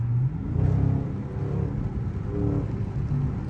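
A widebody Dodge Challenger Scat Pack at night, its engine rumbling and revving steadily from inside the moving car, with a low continuous drone that swells and eases.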